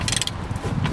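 A wrench hand-tightening a rear brake bolt on a Renault Megane 2, giving a brief grinding ratchet-like mechanical rasp, close and steady for about a second.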